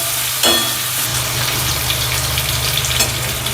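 Onion hits hot oil already holding garlic in a pan for a spicy Maharashtrian zunka, bursting into a loud, steady sizzle that crackles on with no one speaking.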